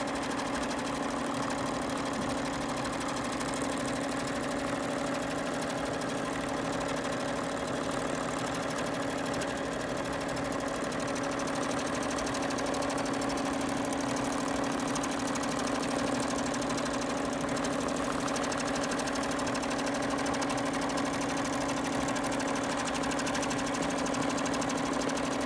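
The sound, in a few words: sewing machine quilting pumpkin pattern with template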